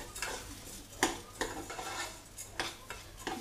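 Rice frying in a pan gives off a soft steady sizzle, broken by irregular scraping knocks of a utensil stirring it, close by and fairly quiet with no talk.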